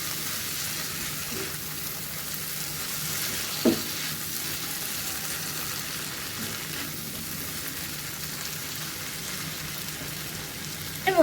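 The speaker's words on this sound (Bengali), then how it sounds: "লঙ্কা গুঁড়ো, জিরে গুঁড়ো, ধনে গুঁড়ো দিয়ে এবার ভালো করে আমি মশলাটা কষিয়ে নেব" Spice masala with chilli, cumin and coriander powder frying in a pan, a soft even rain-like sizzle with a couple of faint stirring knocks.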